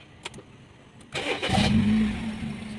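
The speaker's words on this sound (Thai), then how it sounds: "สตาร์ทเครื่องแล้วนะครับ" A Honda Civic FD2R with a 1.8-litre engine cranks briefly and then fires up, settling into a loud, steady idle close by with no talk.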